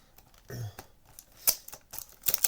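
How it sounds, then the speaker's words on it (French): Sticky tape peels off a cardboard package in short ripping tugs, with small crinkles and taps of handling between the pulls, close up in a quiet indoor setting. "il faudrait que je réussisse à enlever les scotch"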